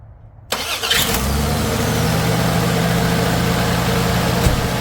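Mopar V8 in a 1967 Plymouth Belvedere cranks briefly on an upgraded starter and catches almost at once, settling into a steady, loud, rumbling idle that holds for several seconds with no talking.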